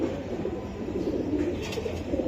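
A male pigeon of a bred fancy line coos in a brief, low, rolling call close by, over a soft background hum.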